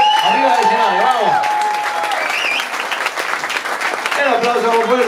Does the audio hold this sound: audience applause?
yes